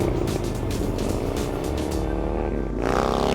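A custom chopper motorcycle built for Sturgis roars loudly and up close, its engine revving with a rough, throaty drone before briefly dipping and surging again.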